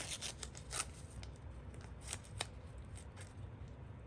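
Paper edge being torn off by hand for an art journal page, faint close rustling with several quick crisp rips scattered across a few seconds.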